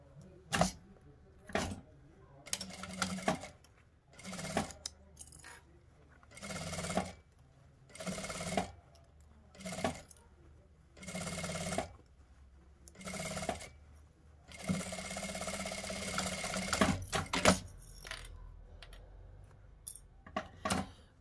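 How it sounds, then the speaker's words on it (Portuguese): A sewing machine stitches a seam all around a small bag's fabric and lining, running in short repeated bursts with quiet pauses and one longer run, close and fairly soft, with no talking. "E agora, a gente vai passar uma costura com um pé de máquina em toda a volta."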